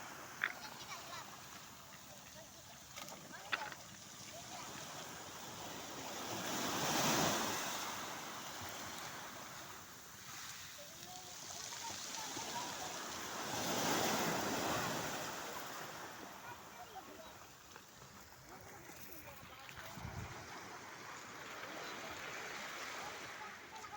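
Sea waves wash onto a beach at Dinggalan, Aurora, swelling into broad surges about every seven seconds over a steady low roar, with light wind noise on the microphone.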